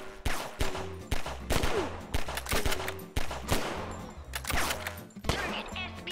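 Gunfire in the video game Anime Space Sniper: repeated loud bursts and volleys of shots with sharp cracks and rattling automatic fire, coming in uneven clusters across the whole stretch.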